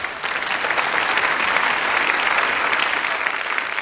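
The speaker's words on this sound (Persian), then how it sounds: "پایین تشویقشون بکنید" Steady, dense audience applause from a large crowd at a televised stage performance, loud and continuous clapping that holds at an even level throughout without pausing.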